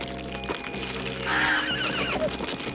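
Horses neigh and whinny loudly, one long shrill call rising over a steady background roar, with faint hoof clops nearby.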